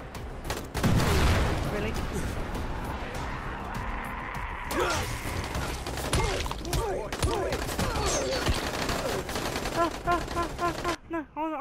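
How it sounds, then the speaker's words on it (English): Explosive blasts and crashing impacts from an exploding falling star weapon in the Dying Light video game, a burst of loud bangs early on followed by scattered crunching hits, with someone briefly talking over it. "let's try out the exploding falling star"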